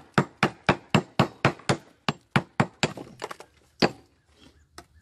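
A mason's hammer chips and shapes a stone corner piece with about fifteen sharp, close strikes. They come in a quick even rhythm at first, then grow lighter and irregular, ending in a few scattered taps.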